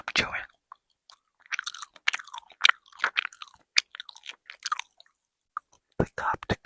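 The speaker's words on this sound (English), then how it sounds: "The cup chewing." A cup being chewed up close for ASMR, with scattered soft crunching and biting clicks in irregular bursts separated by brief quiet gaps.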